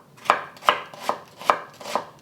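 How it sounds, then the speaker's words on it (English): Half an onion sliced top to bottom with a knife on a board: five crisp, evenly spaced cuts about every 0.4 seconds, close and clear with no talking. "I'm using half an onion that I'm going to slice up."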